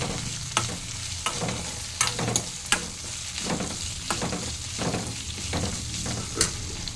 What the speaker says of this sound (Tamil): இங்கே கோவக்காய் பெரிய வெங்காயம் வெந்துக்கிட்டு இருக்கு